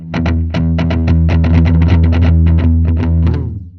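A guitar played through a Fender Hammertone digital delay pedal, quick picked notes ringing with echoing repeats, loud and continuous with no talking.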